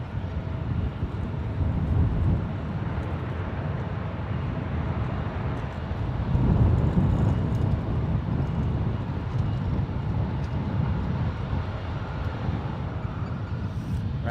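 A United Airlines widebody arriving from Frankfurt touches down at San Francisco International Airport, heard as a steady, broad jet roar with wind buffeting the microphone. It swells slightly midway, stays distant and continuous, and has no talking.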